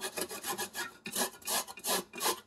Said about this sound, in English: I'm just showing you how I'm gonna grate my coconut